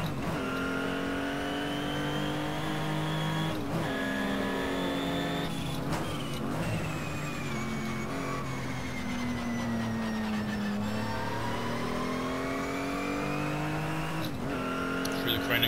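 Race car lapping a track, engine loud and close throughout, rising and falling revs through gear changes and corners, with a voice speaking over it.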